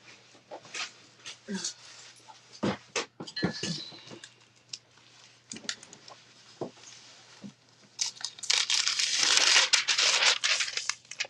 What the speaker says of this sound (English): Let me get the parchment paper back.